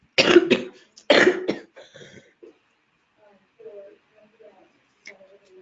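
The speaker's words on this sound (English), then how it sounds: "that cough is miserable" Two loud, close coughs in quick succession, followed by quieter breathy sounds and small clicks fading out.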